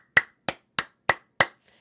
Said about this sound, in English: You can clap much louder with your fingers splayed and your palms pulled back